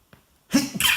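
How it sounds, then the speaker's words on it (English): A single sharp sneeze, loud and close, with a short faint intake of breath just before it. "after my sneeze"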